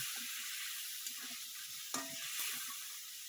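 Eggplant and potato curry being stir-fried in a pan, a steady sizzle under scraping strokes of a spatula, with a few sharper scrapes near the middle.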